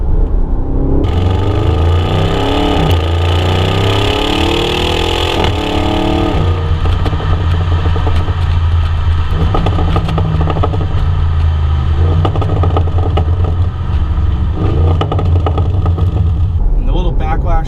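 A loud Bentley GT3R sports car engine rumbles close up, revving and rising in pitch before settling into a steady, throaty drone.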